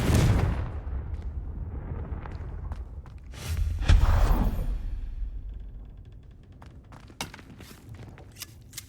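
The Confringo fire spell from the Hogwarts Legacy game detonates with a heavy, booming blast that rumbles and fades, followed by a second swelling burst and scattered sharp impacts, loud and close with no talk.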